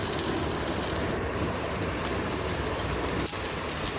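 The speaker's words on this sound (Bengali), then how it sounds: "পেঁয়াজ রসুন কাঁচামরিচ এগুলো ভেজে নেব" Onion, garlic and green chilies fry in a pan with a loud, continuous, dense sizzle that holds steady throughout.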